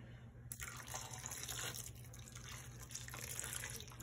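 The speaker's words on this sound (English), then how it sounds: "Gently pour this right over the yarn." Liquid UV-reactive dye poured over yarn, a close, soft, continuous trickling and splashing flow that starts after a brief pause and runs on without talk.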